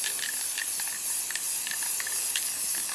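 A spray can hisses steadily as olive drab paint goes onto a budget ghillie suit, with short, irregular spurts layered over the continuous hiss.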